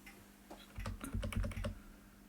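Code commands are tapped out on a computer keyboard in a quick, soft burst of clicking keystrokes lasting about a second, close and fairly quiet against a faint room hum.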